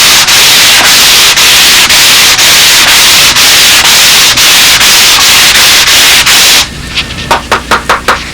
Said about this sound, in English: Remember, we're sanding 2 at once here.